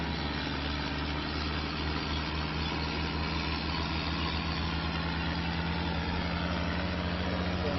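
An International 845 tractor idles in Farming Simulator 25, a steady low diesel rumble with a faint regular throb, constant and close throughout.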